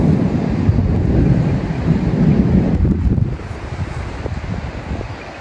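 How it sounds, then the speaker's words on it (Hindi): A deep, heavy rumble of thunder rolls loudly amid gusty wind noise and fades somewhat toward the end. "बहुत तेज़ आवाज़ आ रही है बादल गरजने की ये बादलों की आवाज़ सुन रहे होंगे"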